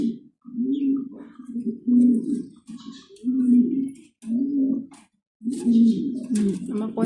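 Indian color pigeons coo close by in a loft, with low, throaty, rolling coos repeating in a steady rhythm and a few faint chirps and rustles between them.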